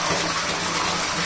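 Water from a natural village spring flows steadily in a broadband rushing gush, loud and close, with no voices.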